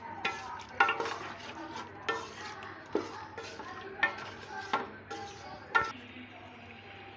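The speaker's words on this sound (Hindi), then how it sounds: "चने को हमने 5 मिनट तक मसाले के साथ भूनना है।" Boiled white chickpeas being fried with spices in a pan for chana pulao: a low sizzle under regular spoon-stirring scrapes and clinks that come about once a second, close and with no talking.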